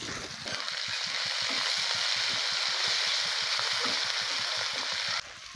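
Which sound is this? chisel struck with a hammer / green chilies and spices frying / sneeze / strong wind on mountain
green chilies and spices frying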